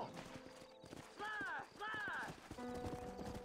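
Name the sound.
horse hooves in a video game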